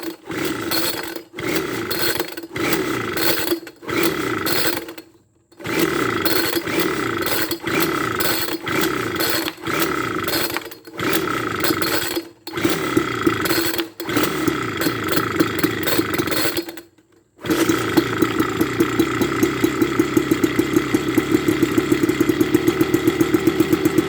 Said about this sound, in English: the engine started and died